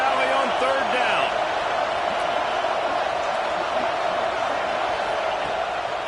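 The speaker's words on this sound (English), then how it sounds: "Here comes the noise from this big crowd in Happy Valley on third down." A big football crowd roars on third down at Penn State's Happy Valley stadium, a loud, continuous wash of noise that holds steady from start to finish.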